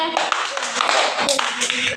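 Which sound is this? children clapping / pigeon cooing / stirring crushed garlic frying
children clapping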